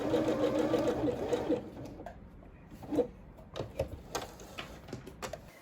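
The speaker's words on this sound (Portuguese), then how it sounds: "eu vou costurar no ponto zigue-zague, eu abaixei os dentinhos da minha máquina" A domestic sewing machine with its feed dogs lowered runs a zigzag stitch in a steady, fast mechanical chatter for about a second and a half, then stops, followed by faint handling clicks and rustles.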